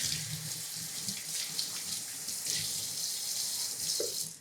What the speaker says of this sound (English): I'm going to rinse out the few remaining little seeds that are in there.